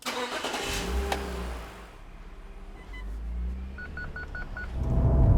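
A supercharged BMW E39 530i Touring pulls away. A mid-pitched engine rumble rises and falls through the revs, and a few short electronic beeps sound partway through as the car gathers speed.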